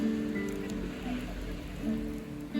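Steady rain falling on Lake Bled in Slovenia, a continuous close patter with a low hum of background noise and no clear voices.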